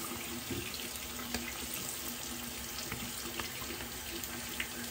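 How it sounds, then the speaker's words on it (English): A tap runs a steady stream of cold water into a sink for a rinse while shaving, a continuous close splashing hiss with a few small clinks and no voices. "we're gonna do a cold water rinse real fast."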